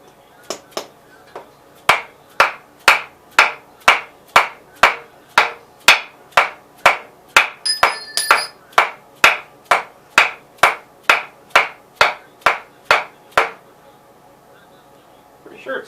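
A dead blow hammer strikes an engine cylinder down onto the block studs in about twenty evenly paced, sharp, close thuds, with a brief metallic ring partway through and quiet afterward.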